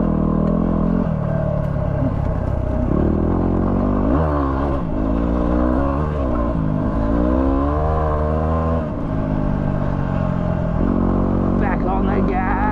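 A Yamaha WR250R dirt bike rides a rough desert track under throttle, its engine droning loud and steady with the pitch swinging up and down as it revs, while a voice talks over it.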